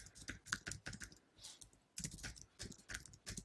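Keys clatter on a computer keyboard in quick irregular bursts, pausing briefly midway, as someone types an online search for a ridge-cut long sleeve performance shirt; fairly quiet and close, with no talking.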